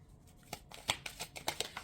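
Oracle cards being shuffled by hand give a quick run of crisp, close papery riffles and taps in an uneven rhythm, heard alone.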